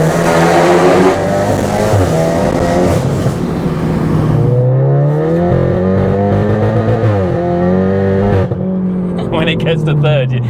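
A 520 bhp big-turbo Cupra pulls hard through the gears, its engine note climbing, dropping sharply at each shift and rising again. The sound is loud and close, as if heard from inside the car.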